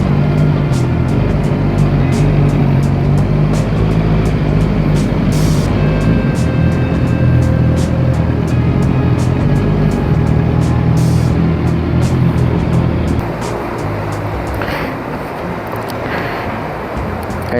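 Honda CBR650R motorcycle riding along a road, heard as a loud, steady roar of engine and wind rushing past that drops slightly in level near the end.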